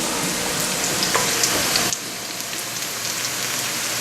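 Onions fry in a pan for a venison vindaloo, making a steady close hiss and crackle like light rain that drops suddenly to a quieter sizzle partway through.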